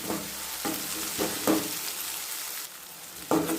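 Garlic and ginger paste frying in a pan for egg thokku, stirred to cook off the raw smell: a steady sizzle broken by several sharp scraping strokes of the spoon at irregular intervals, close and with no talking.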